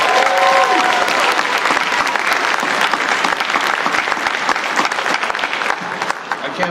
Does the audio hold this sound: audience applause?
yes